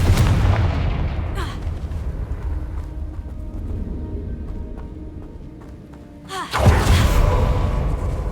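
A Confringo blasting spell goes off in the Hogwarts Legacy video game, a loud booming explosion with a sharp onset and a rumbling tail, followed by another heavy blast a few seconds later.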